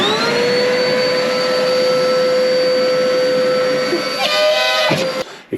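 A workshop shop vacuum runs loud and steady with a whining motor tone, then the pitch shifts and the motor winds down and cuts off near the end.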